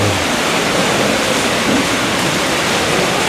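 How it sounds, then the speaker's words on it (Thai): Heavy rain falls in a dense, loud, continuous rush of broadband hiss, steady and unbroken from start to finish with no voices. "โอ้ฝนตก"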